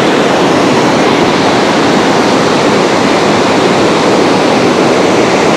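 Floodwater released from Bhavanisagar dam roars in a loud, continuous broadband rush, close and overwhelming, with no voices heard.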